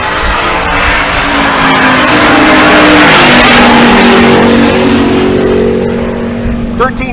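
A loud Buick Grand National drag race car with a 6-liter engine roars down the strip at a race event in Pueblo, Colorado, engine note climbing and sustained close by for several seconds.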